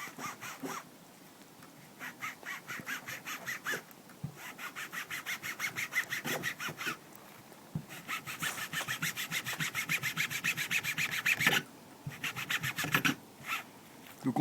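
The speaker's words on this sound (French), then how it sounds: "j'ai décidé d'être un peu sadique et prendre une lime pour réellement tester l'efficacité" A metal file rasps across split cowhide leather bushcraft gloves in rhythmic back-and-forth strokes, close and steady, with a few short pauses between runs.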